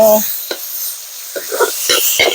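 Pork and zucchini stir-fried in a pan give close sizzling with several short scraping stirs of a utensil against the metal. A voice speaks briefly at the start.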